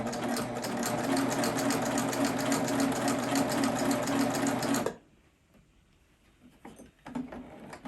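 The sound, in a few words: sewing machine stitching a tee shirt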